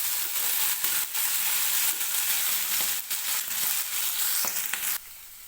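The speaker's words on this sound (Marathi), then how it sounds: "वाटाणा आणि बटाटा मी तेलामध्ये व्यवस्थित भाजून घेतलेला आहे" Peas and potatoes fry in oil in a kadai with a dense, loud sizzle, punctuated by occasional scraping stirs before the sizzle drops away near the end.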